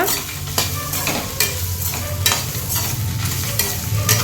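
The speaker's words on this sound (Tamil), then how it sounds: "தேங்காய் துருவல் சேர்த்துக்கலாம் எண்ணெய் விடாமல் ட்ரை ரோஸ்ட்டு பண்ணிக்கோங்க" Grated coconut dry-roasted without oil in a hot pan for Chettinad chicken kuzhambu, with repeated scraping stirs of a spoon over a soft crackling sizzle, close and fairly loud, no voices.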